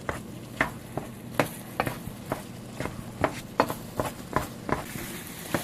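Apples for turnovers cooking down into a thickening sauce in a pan, with a spoon stirring and scraping in repeated loud strokes over a soft bubbling sizzle.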